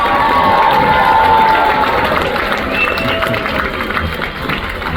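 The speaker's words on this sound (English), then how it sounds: "Give her a round of applause there." A theater audience at a Royal Caribbean magic show claps and cheers loudly, with high excited shouts and whistles over continuous applause that eases slightly toward the end.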